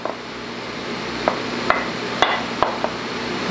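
Sausage stirred in a pan of curry sauce gives steady low sizzling with a few sharp scraping clicks of a utensil against the pan, close and alone.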